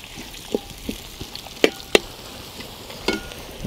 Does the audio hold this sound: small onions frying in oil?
yes